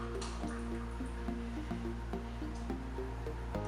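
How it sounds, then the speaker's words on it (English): Cider from a home brew kit pours out in a steady, close liquid stream with small drips and splashes, joined by a low repeating tonal hum throughout; no one speaks. "just wanted to show how it pours."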